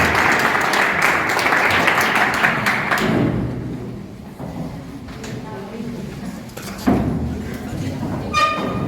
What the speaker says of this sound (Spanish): un último aplauso a nuestros conferenciantes